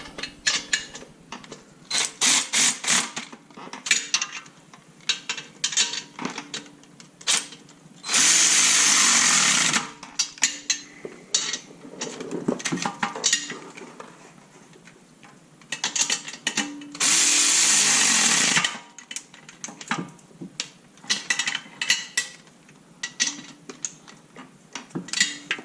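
A power tool tightens header bolts on a K24A2-powered Acura Integra with an OBX Racing header. Two bursts of buzzing are separated by many quick ratcheting clicks and clanks.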